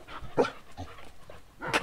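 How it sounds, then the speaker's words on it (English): Two dogs, one excited and hyper and one annoyed, make short close panting, whimpering and barking bursts, alone and with no talk. "One super excited doggy, one chilled out doggy."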